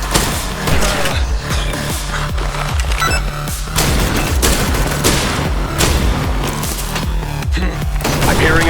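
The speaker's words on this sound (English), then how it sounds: "I'm hearing an explosion." Dense gunfire and booming explosions in the video game Cold Sweat, rapid loud bursts and blasts crowding over one another throughout.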